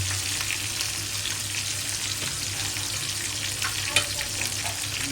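Fish frying in a pan of hot oil, a steady, loud, close sizzle throughout with a few faint clinks, and no talk.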